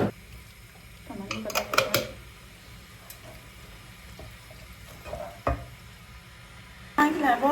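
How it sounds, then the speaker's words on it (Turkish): Tomato sauce poured into a hot pan of food sizzles and is stirred, with scraping and clattering bursts in a home kitchen, ending in a louder rush of frying. "Birazcık da buna ben domates sosu ekleyeceğim arkadaşlar"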